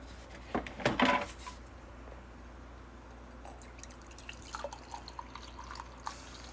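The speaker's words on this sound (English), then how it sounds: "Pour myself a cup of coffee here." Coffee is poured into a cup, a short trickling, splashing burst up close that quickly fades into a quiet room with faint clicks afterward.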